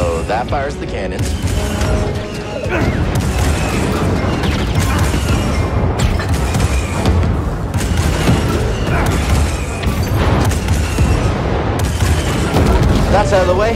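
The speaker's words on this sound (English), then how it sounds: "So that fires the cannons." Dense, continuous barrage of booming cannon blasts and crashes from a hijacked AT-AT in Star Wars Jedi: Fallen Order, loud and steady throughout, with some voices mixed in.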